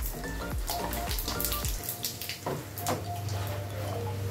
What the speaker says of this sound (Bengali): তেল দিয়ে দিলাম, শুকনো লঙ্কা ফোড়ন দিলাম, জিরে ফোড়ন দিলাম।